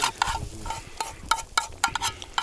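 Fish frying in a pan while being stirred, with repeated scraping clicks of a utensil over a steady sizzle, close and fairly quiet, with no talk.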